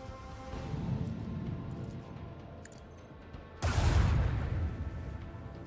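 A torpedo launches in the Warhammer 40,000: Rogue Trader video game, a sudden loud rushing boom with deep low rumble that cuts in over a steady ambient hum and then slowly fades.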